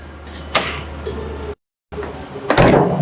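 A middle refrigerator drawer, the custom flex temp kind, slides open and shut, giving two short rolling scrapes with soft knocks, close by over a low hum, with a brief gap of silence between.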